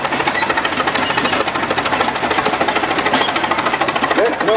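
A 1913 Holt 60 tractor engine runs at an antique farm fair, hammering out a fast, steady, loud beat that holds without a break, with outdoor crowd noise and voices mixed in.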